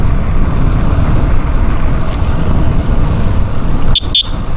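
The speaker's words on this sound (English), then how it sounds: "The electronic horn's very loud, so you're not going to be missed." The electronic horn on a Duotts C29 electric bike gives two short, loud, sharp beeps near the end, cutting through the steady rumble of riding along a road.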